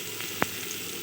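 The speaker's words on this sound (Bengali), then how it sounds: "সবজিগুলো খুব ভালোভাবেই ভাজা হয়ে গেছে।" Vegetables fry in a clay pot (matir korai) for a milk pulao, giving a steady faint sizzle with one short sharp clink or scrape near the middle.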